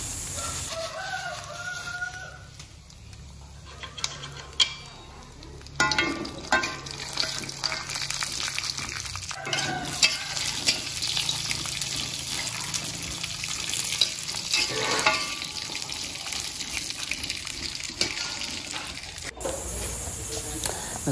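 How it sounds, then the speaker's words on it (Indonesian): Peanuts frying in a little oil in a home kitchen, a steady sizzle with stirring and scraping throughout, while roosters crow and cluck in the background. "saya menggoreng kacang dengan sedikit minyak"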